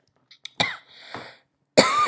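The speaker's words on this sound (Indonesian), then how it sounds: "Kok batuk ya?" A woman coughs during a relaxed live chat, a few short harsh bursts spread across two seconds with quiet gaps between them.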